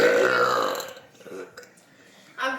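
A loud, long burp rumbles out during a niece-and-uncle burping contest over pizza and water, fading into quiet before a second short burst starts at the end.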